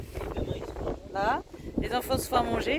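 Wind buffets a handheld microphone at a breezy roadside spot where a family is working on a machine, with gusty low rumble running throughout under a person talking.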